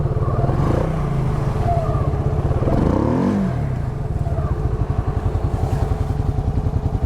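A Can-Am XMR 700 four-wheeler ATV engine runs while driving through mud, a loud close rumbling drone with pulsing throttle changes and a brief rise in revs.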